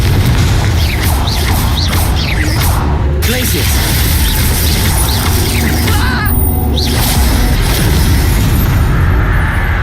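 In the Hogwarts Legacy video game, a Confringo blasting curse goes off amid a loud, continuous wash of booming blasts and whooshing spell effects. Talk runs over the top of the constant combat racket.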